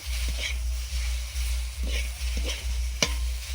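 Fish fries in a covered pan with a steady, close sizzle over a low electrical hum, broken by scattered crackles and a sharp pop near the end.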